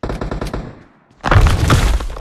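Gunfire in the battle royale game PUBG Mobile, a dense burst of loud automatic shots filling the second half after a quieter stretch of earlier shots and game sounds.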